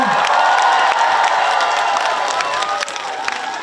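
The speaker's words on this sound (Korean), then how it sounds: "큰 박수 한번 주시겠어요" Audience at the 2024 Gochang mudflat festival concert clapping and cheering loudly, a dense crowd roar with shouts that holds steady before easing slightly near the end.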